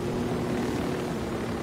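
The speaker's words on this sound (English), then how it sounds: "Go, you stupid helicopter." A helicopter in Ghost Recon: Wildlands, a loud continuous rotor and engine drone with a steady tonal hum, close and alone with no talking.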